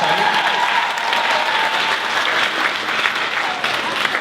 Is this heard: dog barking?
no